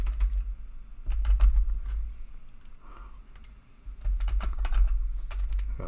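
Keystrokes on a computer keyboard tap in quick irregular bursts, with a short pause near the middle, close and clear over a low steady hum.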